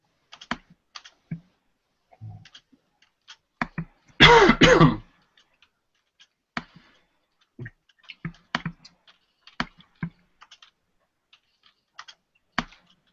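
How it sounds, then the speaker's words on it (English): Loud, clattery typing on a computer keyboard during a live stream, a few scattered keystrokes followed by a dense burst of rapid strikes around the middle, then more sparse clicks, with a throat-clearing sound mixed in. "who's clomping on their keyboard?"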